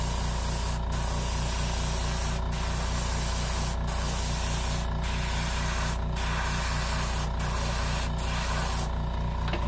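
An airbrush misting Space Dust paint onto a Whopper Plopper fishing lure, a continuous close spray hiss with a faint underlying hum, interrupted by several brief pauses as the trigger is released.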